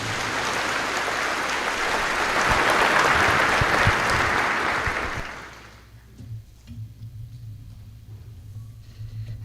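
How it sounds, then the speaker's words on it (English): Sustained applause from a graduation audience for honored students at a school district ceremony, loud and dense for about five seconds before fading into a low hum of the room. "Let's give these students a round of applause for an outstanding academic achievement"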